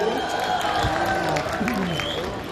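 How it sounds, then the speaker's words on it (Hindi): An audience at an engineering college function in Sikar, 2017, claps loudly in a thick, continuous wash of applause with some crowd noise, lasting a couple of seconds. "जोरदार तालियां"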